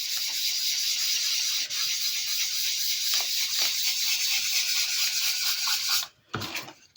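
Brush stroking olive green paint onto paper, a continuous close, dry scratchy rubbing that holds steady for several seconds and then stops briefly with a last short stroke, no talk.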